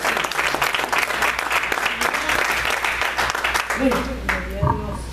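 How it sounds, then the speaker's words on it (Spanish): A church congregation claps steadily through a sermon, the applause dense and continuous, with voices rising over it near the end. "Denle un aplauso al Señor, hermano."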